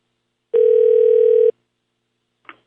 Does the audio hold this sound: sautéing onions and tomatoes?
no